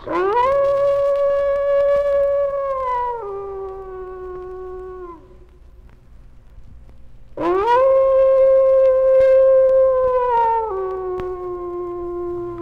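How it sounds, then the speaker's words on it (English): A pack of wolves howls in chorus. Long, low, overlapping howls sustain and then drop in pitch, fade into a short pause, and swell again loudly with no other sounds around them. "A typical howl may begin with a few long, low howls."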